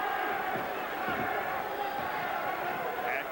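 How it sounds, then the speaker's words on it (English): A boxing crowd in Reno chants "the truth" in support of heavyweight Carl Williams during his fight with Larry Holmes, a steady rumbling roar of many voices filling the arena throughout. "The chant of the truth from the crowd."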